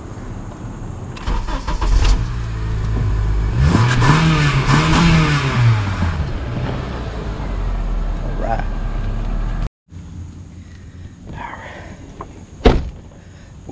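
A Honda Accord engine cranking and starting after an ignition replacement, with a loud close rumble and a rising rev, then idle after a brief cut, with a door-like thud near the end.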